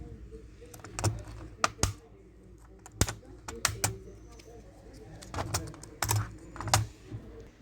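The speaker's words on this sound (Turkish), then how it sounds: "Klavyemizi açıyoruz." Sharp plastic clicks and snaps as the keyboard is pried off a Dell Inspiron N4030 laptop during a repair, about a dozen distinct close-up clicks spread irregularly over a quiet room background.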